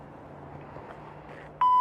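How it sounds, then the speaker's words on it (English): A single electronic beep cuts in sharply at the end and holds steady, after a stretch of low, noisy background. "Beep."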